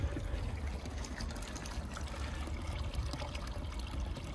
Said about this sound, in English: I've got a watering can. I'm just going to put the water down.